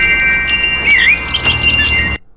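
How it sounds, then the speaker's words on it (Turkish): Small birds chirping and tweeting, a lively series of high, quick calls and a clear whistled note over a low hum, cutting off abruptly near the end. "Bakın biz ondan sonra cik cik sesleri girdi."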